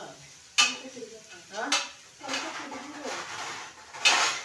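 Grains fry lightly in oil in a home kitchen pan while being stirred, with a few sharp scrapes and clatters over a soft, steady sizzle, close and fairly quiet.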